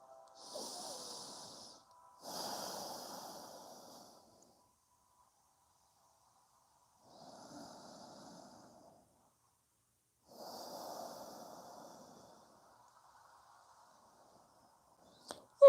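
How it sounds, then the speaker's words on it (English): Slow, deep breaths drawn in and out through the nose during a yoga session, each a soft, airy hiss lasting a few seconds, with long quiet pauses between them, close and faint with no talking. "breathing through your nose."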